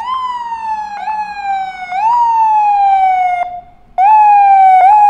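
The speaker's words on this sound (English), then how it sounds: "Yep, FDNY ambulance." An FDNY ambulance siren in New York wails loud and close, sweeping up and down in repeated cycles with a short drop-out before resuming.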